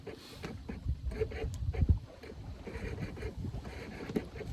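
Water and wind around a solo sailboat under full plain sail in a light roll off the US East Coast, with soft hull splashes and creaks rising and falling close by, steady breeze noise underneath, no voices.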